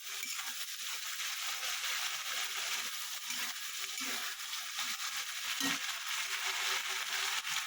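Fish head sautéing with salt in a pan, a steady broadband sizzle and crackle running throughout at moderate, close level with occasional stirring scrapes, no talking.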